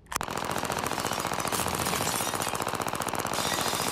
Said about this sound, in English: And then we're gonna grab a Tommy gun and blow this stuff up.